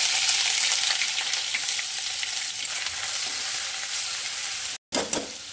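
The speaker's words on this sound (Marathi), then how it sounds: "थोडीशी जिरं पण टाकून घेतलं होतं मी इथं. ही अद्रक लसूणची पेस्ट टाकून घेऊया." Ginger garlic paste hits hot oil already seasoned with cumin, giving a steady, close, crackling sizzle that runs continuously, with a brief stir and clatter near the end and no talking.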